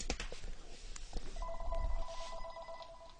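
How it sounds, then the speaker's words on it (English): A mobile phone rings, a faint electronic ringtone chiming as a steady repeating tone over quiet room noise for a few seconds. "my phone is ringing"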